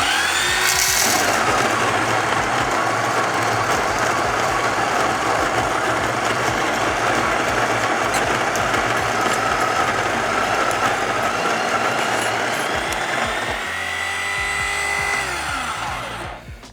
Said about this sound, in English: I actually like to have the grinders running just so the blades aren't starting on the beans.